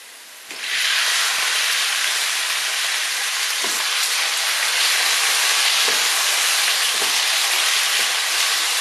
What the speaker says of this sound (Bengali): পেঁয়াজটাকে ব্রাউন করে ভাজার পর এখন আমি মাংসটা দিয়ে দিচ্ছি।